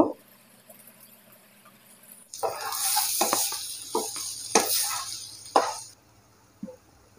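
Spices and chopped green chilies sizzle loudly in a hot pan after a quiet start, with crackling bursts and stirring scrapes that rise and fall before dying away near the end.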